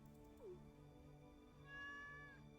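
A cat meows twice in Stardew Valley, with short, soft calls over steady game music and no voices.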